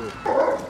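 A large German shepherd barks from the back seat of a foreign car parked outside a police station, a single loud, close bark muffled by the closed cabin.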